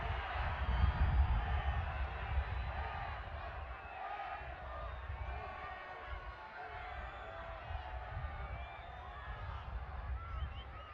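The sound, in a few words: football crowd reacting disapprovingly to a foul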